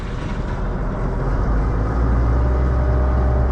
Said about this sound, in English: Put the revs on the tractor up a bit.